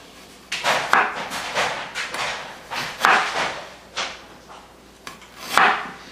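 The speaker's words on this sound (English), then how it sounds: "I want to show you guys how I cut this ginger up. Just cut little slices off of it." A knife cuts thin slices off a piece of ginger on a cutting board: a series of about eight crisp, close knocks and slicing scrapes at an uneven, unhurried pace, with nothing else in the background.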